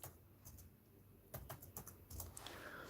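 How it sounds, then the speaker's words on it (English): Quick clusters of keystrokes on a computer keyboard, faint and close, with a short pause before a second flurry of taps. "So I'm going to type in Hermes"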